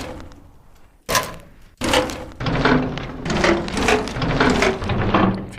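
Sampled impacts from a field recording of a trash bin come back as a series of sharp, hollow knocks, several separate thumps followed by a denser run of rattling clatters, close and fairly loud.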